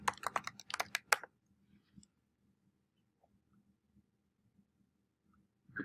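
Quick bursts of keystrokes on a computer keyboard, a short flurry of close, crisp clicks followed by a near-silent pause with a few scattered taps and one final click.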